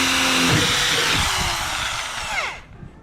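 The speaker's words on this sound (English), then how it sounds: "So we're going to loosen those nuts." A power tool whirs loudly up close while loosening nuts on a Poison Spyder hood louver being installed on a Jeep JK Wrangler, holding a steady whine before spinning down and stopping near the end.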